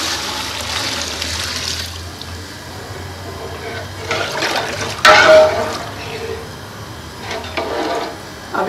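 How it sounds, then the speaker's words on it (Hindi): Water pours into a pot of roasted chickpeas, a continuous splashing rush that swells and sputters in a few bursts, with faint clatter of the pot alongside. "अभी हम पानी डाल देते हैं।"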